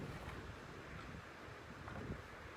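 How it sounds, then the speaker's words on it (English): Gusty outdoor wind buffets the microphone in a soft, rushing roar, faint and unbroken over a few seconds with no voices. "It's really windy."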